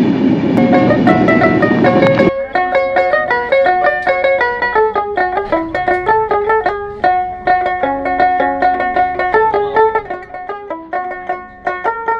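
A passenger train running from Dhaka to Panchagarh through the countryside: a loud broadband rush at the start, then a repeating rhythmic rattle of carriages with tonal metallic ringing over the wheels, close and continuous.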